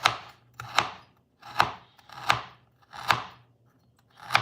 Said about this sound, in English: So let's cut the ginger.